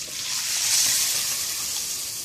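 Water poured into a pot of rice that has been cooking in oil, a steady rushing, hissing pour that swells and then evens out, close and fairly loud, with no talking.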